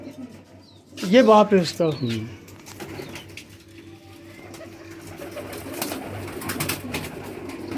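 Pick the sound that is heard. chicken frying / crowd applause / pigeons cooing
pigeons cooing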